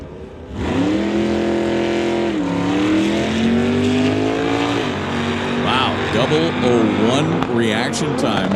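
Drag racing cars, a 1963 Nova and a small Mustang, hold a loud, sustained engine roar that rises in pitch as they accelerate down the strip, with a commentator talking over it.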